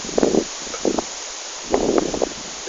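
Wind gusts rustling leaves in a forest, arriving in two short breathy bursts separated by a brief lull, fairly loud and close, with no voices.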